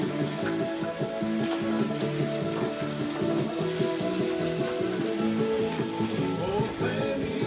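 Meat sizzling in butter at breakfast while being stirred around the pan, a continuous close crackle with light scraping, under steady background music.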